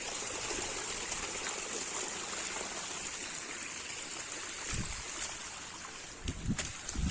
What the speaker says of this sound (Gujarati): તો પાણી નું કઈ માપ જ નહીં જબર પાણી ચાલતું જો ખાલી